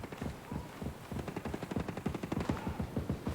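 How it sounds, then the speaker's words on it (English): A mounted turret in the video game Ghost Recon Breakpoint fires rapid, continuous bursts at an enemy, with sharp repeated shots in a steady rattling rhythm from start to finish. "Oh man, that turret's lighting him up."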